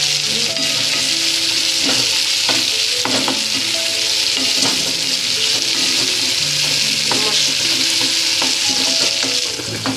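Chopped tomatoes and fenugreek greens with salt fry in a hot pan, giving a loud, continuous sizzle broken by frequent scraping stirs.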